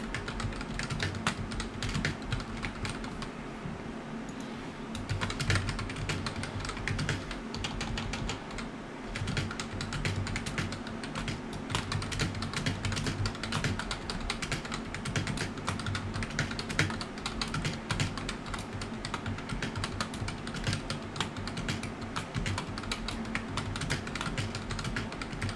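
Rapid typing on a computer keyboard, a steady, dense patter of clicky keystrokes running continuously over a low background hum, close and moderately loud.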